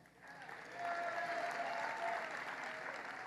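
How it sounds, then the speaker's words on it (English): An audience at a political speech at a police academy training center breaks into applause, a dense steady burst of clapping that swells after a brief start and holds loud throughout. "clap for the one you like best"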